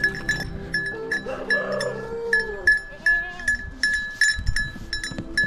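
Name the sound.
goats bleating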